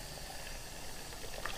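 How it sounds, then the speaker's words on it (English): Cold beer wort for a Bavarian Hefeweizen splashing as it is poured for a gravity and temperature check, a soft continuous liquid wash with a few brighter splashes near the end. "This is really just for our gravity check and our temperature, so it's okay if it splashes."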